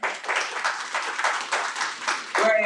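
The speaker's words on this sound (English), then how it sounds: "That's an applause right there for him." An audience claps for an honored coach, a brisk, slightly rhythmic burst of many hands at close to moderate range that carries on steadily over a couple of seconds.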